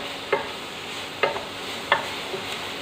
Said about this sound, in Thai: ลงผัด ให้หมูมีความหอมนะคะ